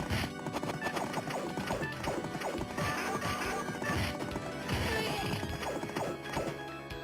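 Knights of the Round arcade game audio, with horse hooves clip-clopping in a rapid rhythm amid clashing, crashing effects and a whinny, loud and continuous with no voices.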